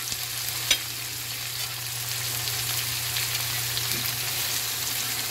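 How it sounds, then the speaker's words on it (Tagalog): Anchovies sautéing in a pan for a Filipino vegetable dish of bok choy, okra and sweet potato leaves, a steady close sizzle with one brief clink early on. "nagigisa ng dilis."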